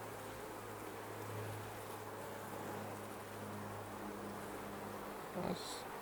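Honeybees buzz steadily and close at an opened hive in an urban apiary, a dense, continuous drone with a brief louder flare near the end.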